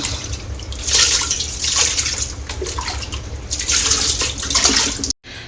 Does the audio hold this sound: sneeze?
no